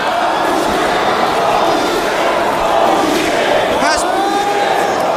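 A wrestling crowd at a free-for-all match roars and cheers in a loud, continuous wash of voices, with shouts and whistles rising above the noise.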